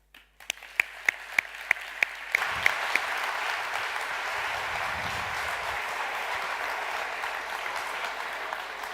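Scattered individual claps start it off, then a large audience joins in to welcome the university rector at an architecture award ceremony. The applause builds into steady, full clapping that carries to the end.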